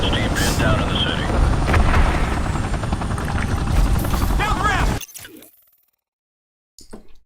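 A military helicopter in Call of Duty Modern Warfare Remastered roars with a loud, steady rotor and engine drone under game radio chatter, then cuts out abruptly into near silence.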